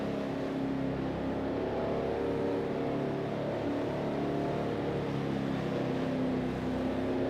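Steady, loud drone of a NASCAR Cup stock car engine in the NASCAR Racing 2003 game at North Wilkesboro, held at constant revs behind the pace line with no pauses.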